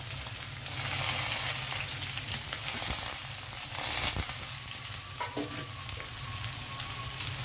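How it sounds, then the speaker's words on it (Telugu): Pieces of bitter gourd sizzle steadily in hot oil in a pan, a loud, continuous frying hiss with small crackles throughout and no voices. "కాకరకాయ నూనెలో వేగాలి"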